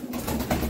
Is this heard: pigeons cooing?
yes